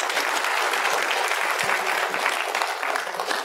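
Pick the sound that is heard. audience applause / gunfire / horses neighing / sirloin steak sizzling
audience applause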